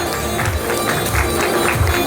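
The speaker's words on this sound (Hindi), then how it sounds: "If I can have the biggest round of applause for Parth Tiwari" An audience applauds actor Parth Tiwari at a film press conference, a loud, dense wash of clapping and crowd noise with some cheering mixed in.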